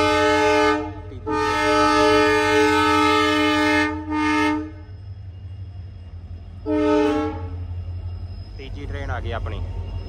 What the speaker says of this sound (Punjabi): ਟ੍ਰੇਨ ਇੱਕ ਹੋਰ ਆ ਗਈ